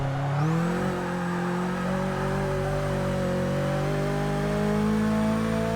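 A Nissan Silvia engine in Forza Motorsport 6 holds a steady high rev in third gear, its tone rising slowly across several seconds, loud and constant with no talk.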